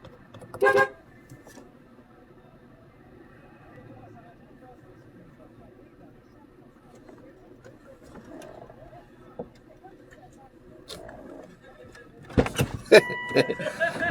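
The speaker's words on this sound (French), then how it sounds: "il m'a klaxonné" A short car horn honk near the start, then quiet street ambience with faint talk, ending in louder rustling and clatter.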